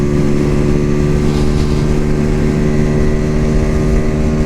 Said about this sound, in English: Oh yeah, this engine loves to spin.